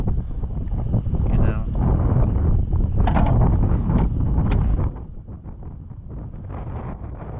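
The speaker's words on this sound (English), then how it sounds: "Why is it windy?" Steady outdoor wind roars and buffets the microphone, with a person talking over it; the blustering drops a little toward the end.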